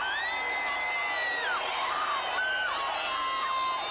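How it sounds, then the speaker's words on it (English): A crowd cheers and whoops at the 1987 Bathurst 1000 motor race, a loud, steady mass of shouting voices with rising whistles and yells running throughout. "I love the way you're cheering me on."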